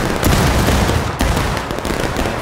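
A rifle volley rattles out in a video game set in a Civil War battle with the 8th Alabama, dense and loud, a continuous crackle of overlapping shots with one sharper crack midway and no talk.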